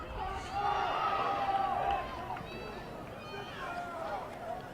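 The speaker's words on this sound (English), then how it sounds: "And Votolato hearing it from the crowd now." Crowd at a Point Loma boys' Division III soccer final shouting and jeering from the stands, a loud broad roar that swells for the first two seconds and then settles into a steady noisy hubbub.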